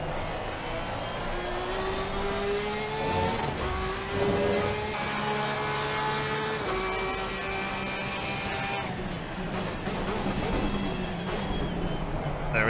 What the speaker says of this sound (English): Sounds like the car's kicking into some sort of overdrive